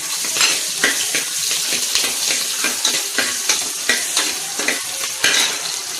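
Chopped onions sizzle in hot oil with cardamom, cloves and curry leaves in a pan for mutton trotter paya, a loud continuous frying hiss broken by repeated scraping and clinking of a spoon stirring against the metal.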